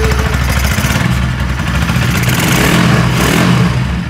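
A Bajaj Pulsar NS 200 motorcycle engine runs loudly and close after an engine repair, a steady, rough, throbbing drone with slight variations in revs throughout.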